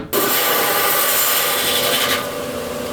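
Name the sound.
rock saw cutting a Purple Passion agate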